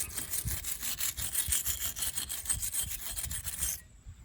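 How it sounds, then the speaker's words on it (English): Wire brush scrubbing the bolts of a Jeep Cherokee XJ wheel bearing, a steady run of close, rasping back-and-forth strokes that stop abruptly near the end. "Get you a wire brush, brush them down real good."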